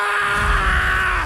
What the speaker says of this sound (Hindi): वो जोर से चीख पड़ा।